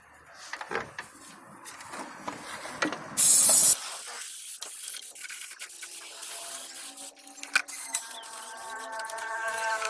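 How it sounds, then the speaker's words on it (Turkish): A short burst of brake cleaner aerosol spray hisses for about half a second while cleaning during a Fiat Doblo 1.4 air filter change, followed by quiet handling and rustling noises. "Burayı temizlerken de balata spreyi kullanabilirsiniz."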